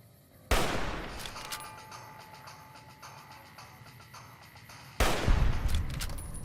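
Sneak-attack gunshots in Fallout New Vegas: two loud, sharp shots about four and a half seconds apart, each followed by a ringing, decaying tail, with no talking.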